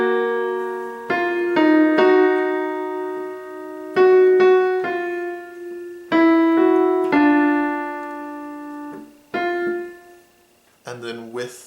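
Right-hand melody of a song from Over The Garden Wall, played alone as a tutorial: clear sustained tones struck one after another in phrases, with a quick, higher flourish closing.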